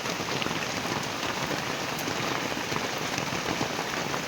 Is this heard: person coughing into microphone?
no